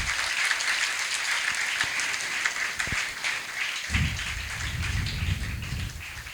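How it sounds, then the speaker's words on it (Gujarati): Applause from an audience at a school lecture event in Bhanvad, loud dense clapping that keeps going throughout, with a deeper rumbling swell partway through. "જોરદાર તાળીઓથી વધાવીએ આપણે."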